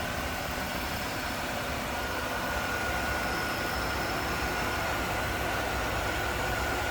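Stock engine of a 1996 Chevrolet Impala SS sedan idling with its AC compressor cycling, a steady close hum with a faint whine and a slight lift partway through, no talking.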